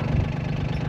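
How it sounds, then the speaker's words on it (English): Farm tractor engine idling nearby, a low steady rumble with a faint knocking pulse, brief and continuous. "it's a bit hard getting the tractor through there because it's quite narrow"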